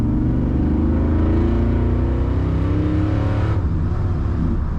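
A 1985 Chevrolet C10 Silverado pickup engine drones loud and steady from inside the cab, a deep rumbling hum that climbs slightly in pitch as it drives.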